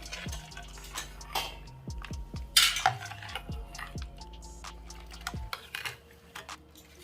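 A spoon clinks and scrapes against a bowl in quick repeated strokes, stirring spiced pani puri water close up, with a faint background hum.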